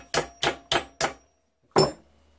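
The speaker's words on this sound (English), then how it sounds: "I'm going to tap it a little lighter with a smaller hammer." A small hammer taps a water-quenched, untempered knife blade made from coil spring steel: four quick, evenly spaced ringing strikes, a short pause, then one more tap, close and bright.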